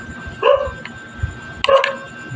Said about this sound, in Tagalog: Mga aso nagtahulan.